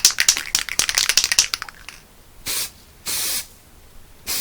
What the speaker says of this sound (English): just spray it on as you, not too thick of a coat, but just enough to sort of give it a misting.